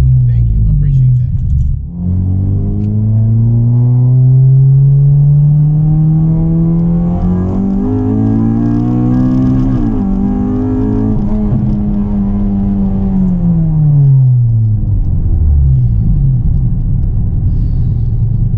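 A 9th gen Honda Civic Si engine revs steadily and loud up close, the pitch climbing and falling across the pass with a few exhaust pops, while someone talks over it.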